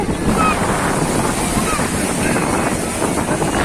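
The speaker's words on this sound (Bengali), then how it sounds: "আজকে পুরীতে প্রবল ঢেউ রয়েছে এই যে পর বড় বড় ঢেউ ভাঙছে" Big ocean waves break on the beach at Puri in a steady, loud roar of surf that fills the whole stretch, with wind buffeting the microphone and no clear voices.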